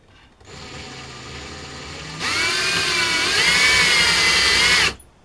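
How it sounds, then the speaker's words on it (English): A handheld power drill bores into a DIY bracelet, starting with a low idle whir that jumps to a loud, high-pitched whine about halfway through, holds steady for a few seconds, then cuts off sharply. "Then hold underneath here and do your drill."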